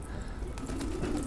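Pigeons coo softly in a loft of a pigeon-keeping family, a low murmuring call rising over steady background noise, close and continuous through the short stretch.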